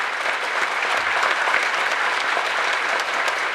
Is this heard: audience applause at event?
yes